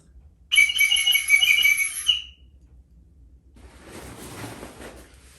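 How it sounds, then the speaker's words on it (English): A shrill, piercing boating safety whistle blast sounds for about two seconds, followed by a pause and then softer rustling noise. "Whistle."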